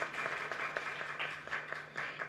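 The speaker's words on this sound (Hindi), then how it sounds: "आप लोग जोरदार तालियां बजा के उनका स्वागत कीजिए।" A crowd at a BJP women's wing meeting applauds to welcome national spokesperson Sambit Patra. The clapping is steady and dense but fairly distant and soft.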